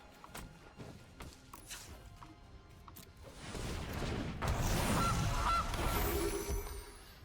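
A goose honks as the Goose card is cast in MTG Arena, a loud burst of honking over game sound effects with soft thumps leading in.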